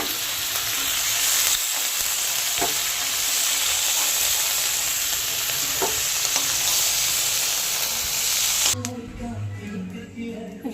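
Cauliflower florets sizzling in hot oil in a pan, a steady bright crackling hiss that cuts off near the end, followed by a voice talking.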